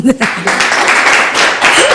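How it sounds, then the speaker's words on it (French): A burst of audience applause at a live stage event, with dense clapping rising under a speaking voice and staying loud and steady. "On applaudit, s'il vous plaît"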